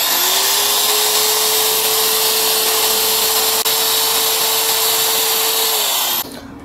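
A Bosch GWS 700 angle grinder runs at full speed with a loud, steady high-pitched whine and a constant motor tone, one brief click near the middle, then spins down at the very end.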